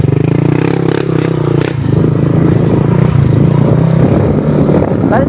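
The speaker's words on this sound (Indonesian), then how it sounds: "Knalpotnya racing ya, guys." A red Yamaha Aerox scooter fitted with a racing exhaust idles and revs nearby with a rough, buzzy note, joined by clattering and scraping sounds and voices in the background.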